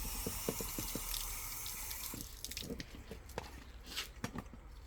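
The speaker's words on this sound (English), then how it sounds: "Give it a quick rinse anyway." Parts of a Dräger LAR 5 oxygen rebreather are rinsed under running fresh water, a close splashing stream with drips and gurgles that thins out toward the end.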